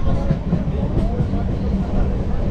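A local train in India runs along the rails, a close, steady low rumble with rhythmic rolling noise throughout.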